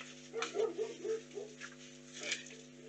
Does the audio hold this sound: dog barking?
yes